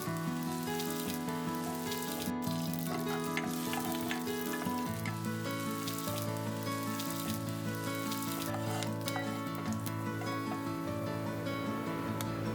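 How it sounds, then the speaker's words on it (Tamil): Dried red chillies sizzle steadily in hot coconut oil, a dense continuous crackle and hiss with occasional faint stirring, close and even throughout. "வரமிளகாய் ப்ரௌன் கலர் வர வரைக்கும் வதக்கணும்."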